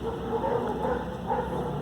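A dog tied by a rope to a tree whimpers and yips softly in short, faint cries outdoors, close but quiet.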